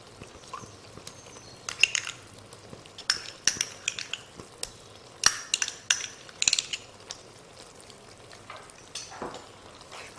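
A utensil scrapes and taps against a pan while tomato puree is stirred into a chicken jalfrezi sauce, with irregular clinks and scrapes over a soft, low simmering hiss.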